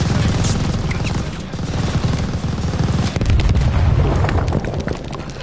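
Battle scene in Call of Duty Vanguard during the Operation Tonga mission: loud, dense explosion and heavy machine-gun fire with booming blasts and rattling bursts filling the whole stretch, no clear isolated single detonation.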